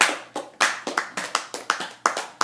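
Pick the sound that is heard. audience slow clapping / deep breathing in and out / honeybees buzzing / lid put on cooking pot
audience slow clapping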